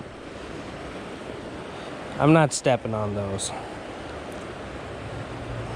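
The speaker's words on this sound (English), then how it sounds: "Big old rapids going." River rapids rush past big boulders in a steady, loud broadband roar, with someone speaking briefly over the water noise.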